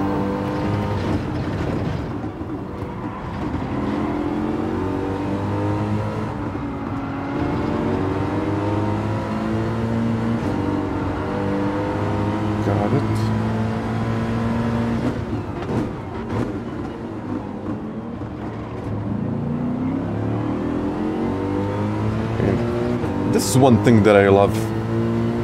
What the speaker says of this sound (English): about the AMG, it's like a super, super amazing acceleration.